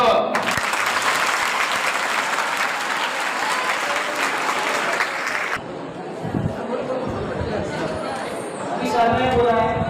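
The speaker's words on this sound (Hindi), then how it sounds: "बोला तो भी चलेगा, उसके बारे में तालियां बजाओ।" Crowd of schoolchildren applauding, a loud, dense burst of clapping for about five seconds that breaks off into chatter and scattered claps, with voices talking over the room.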